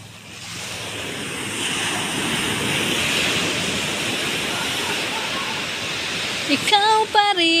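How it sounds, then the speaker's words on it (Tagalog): Strong ocean waves crash and roar continuously on a beach, loud and steady, with brief voices and music near the end. "lakas ng hampas ng alon."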